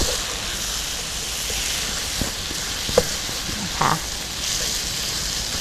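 Herbal noodles stir-frying in a pan, a steady broadband sizzle running throughout with a few soft clicks and scrapes of turning the noodles, no voices.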